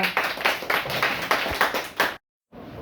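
A small class of students claps in rhythmic bursts for about two seconds, then the sound cuts off abruptly to silence before faint noise returns.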